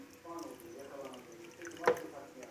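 Homemade vinegar is poured over grated garlic, a brief, faint trickle and one sharper splash heard under speech.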